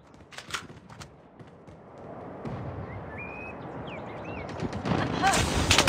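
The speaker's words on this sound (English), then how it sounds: "Friendly sentry gun deployed." Automated sentry gun firing in the Call of Duty video game, bursts of gunfire mixed with game effects and electronic tones, building louder toward the end.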